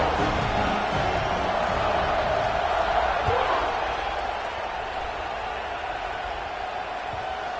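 A football stadium crowd keeps up a steady, dense roar of cheering before a kickoff, following an extra point. The noise holds broad and even throughout, then eases slightly toward the end.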